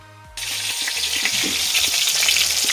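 Eggplant and potatoes dropped into hot oil, a sudden loud burst of frying that settles into a dense, steady crackling sizzle close by.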